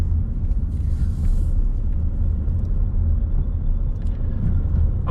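A car rolling slowly over speed bumps near a school, a steady low rumble of road and engine noise with faint thumps and no talk.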